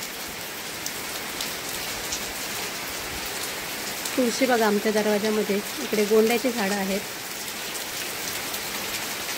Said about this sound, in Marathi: खूप पाऊस लागतोय गावी।